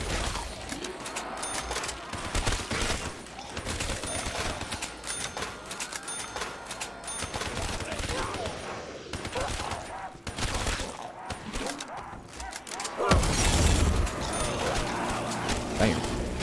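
Rapid automatic gunfire from a powerful gun in Call of Duty custom zombies on the Solus map, a dense, continuous rattling fusillade that runs nearly the whole time, briefly dropping out before surging louder near the end.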